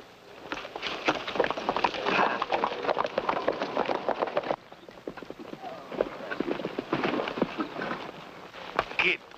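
Rapid clip-clop of horse hooves at a gallop, loud and continuous, briefly easing midway before picking up again.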